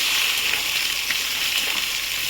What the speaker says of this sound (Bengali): এবার আমি কাপ ধোয়া জল দেবো, এটাকে আবার কষবো